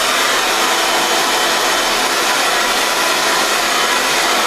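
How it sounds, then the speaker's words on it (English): A hair dryer blows steadily at close range on a synthetic wig, a loud, even broadband whoosh with no pauses and no voices. "Gonna take my blow dryer and blow."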